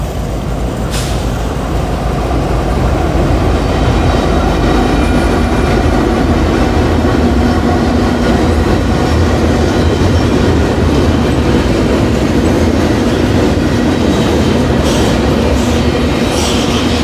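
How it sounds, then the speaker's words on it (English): An intermodal freight train rolls loudly across the Kenova Bridge, a continuous heavy rumble of wheels and cars with steady clickety-clack, occasional squeals and metallic clanks, close and unbroken throughout. "Got us an intermodal coming across the Kenova Bridge."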